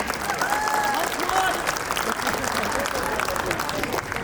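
Sustained applause from parents and guests at a preschool's annual day celebration, dense steady clapping filling the hall with a few faint voices and cheers mixed in.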